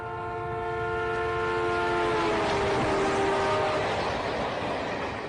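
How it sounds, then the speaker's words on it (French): A train horn blares steadily, its pitch dropping as it passes, over the low rumble and rattle of rolling rail cars. "Plus un train approche, plus son sifflet paraît aigu."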